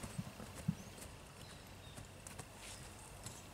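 Horse walking on ground, hooves clip-clopping faintly in a slow irregular rhythm, distant and low under steady background noise.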